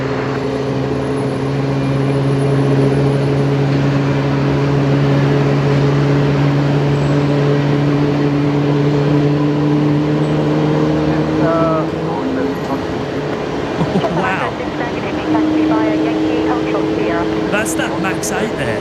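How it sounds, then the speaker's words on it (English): Boeing 737 Max 8 airliner engines at Brisbane Airport, a loud steady jet roar with sustained low tones that shift and build partway through, heard outdoors over constant background noise. "That's that Max 8 there, making all that noise."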